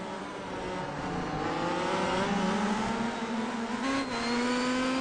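Race cars in the iRacing sim racing game, several engines whining and revving together in a continuous high-pitched drone with gear-shift dips, steady and fairly close.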